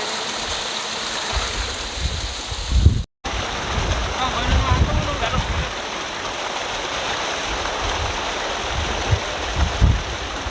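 Water from a bore well gushes steadily into an irrigation pond beside rice fields, a loud continuous rushing roar with wind buffeting the microphone and a brief dropout early on.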